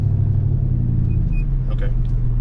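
An '07 Chevrolet Silverado with a Gen 4 LS 4.8 engine rumbles steadily while driving, with a hard second-gear shift breaking the low drone partway through; close, continuous and loud, with faint talk.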